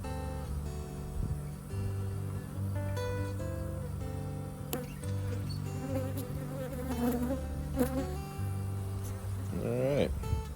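Honey bees buzz steadily while a frame is pulled from a hive during a removal. The drone is close, with layered tones under a man's occasional speech and a few knocks and handling sounds.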